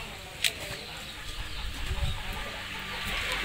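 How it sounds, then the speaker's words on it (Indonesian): Farmed chickens cluck in a poultry pen, with a sharp call near the start and steady low clucking over constant background noise. "Ini semua ayam-ayam yang lagi saya budidayakan."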